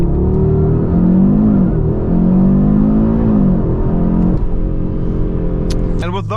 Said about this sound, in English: sound actually of the turbo once you lift the throttle